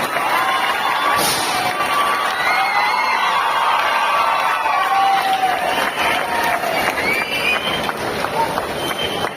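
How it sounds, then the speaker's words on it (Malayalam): A temple festival crowd at the Meenkulath Bhagavati temple anniversary program in 2024 cheers and shouts, a dense, steady roar of many voices that holds loud and unbroken throughout. "എല്ലാവരും ഒന്ന് നല്ലോണം ഒന്ന് കൈയടിച്ച് അദ്ദേഹത്തെ പ്രോത്സാഹിപ്പിച്ചു"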